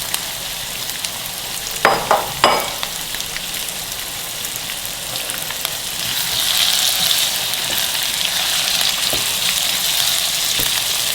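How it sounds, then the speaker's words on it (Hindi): Chicken pieces fry with spices in a pan, a bright spattering sizzle with two sharp clatters early on, then the hiss swells louder and steadier toward the end; no one speaks. "थोड़ी देर इसको भूनेंगे इसके अंदर, बाकी के मसाले भी डालते हैं"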